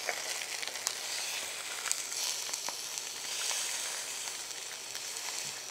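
Veal shanks fry in a hot pan with a steady, dense sizzle and spit that runs without pause, close and fairly loud, with no voices over it.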